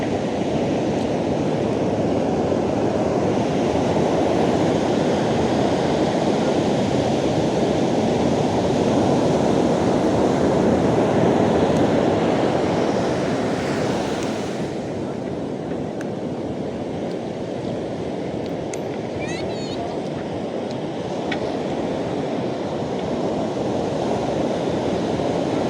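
Ocean waves break on the shore at Baler, Aurora in a steady, loud wash of surf with wind, easing slightly midway before building again; no one speaks.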